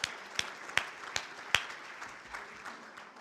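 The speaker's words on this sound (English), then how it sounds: "please help me give a big round of applause to Mad Boar Catering and their staff for our meal this evening" Audience applause at a 2018 Hall of Fame induction ceremony for a sports commission, heard as scattered, fairly faint clapping with a few sharper individual claps early on, thinning out toward the end.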